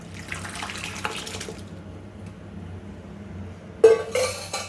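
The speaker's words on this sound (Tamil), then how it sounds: "இது ஊற்றி ஒரு கொதி விட்டுடலாம்." Lentil water is poured into a pot of brinjal gothsu, a South Indian eggplant dish, giving a short liquid splashing pour at the start and another brief splash near the end, with quiet kitchen hum between.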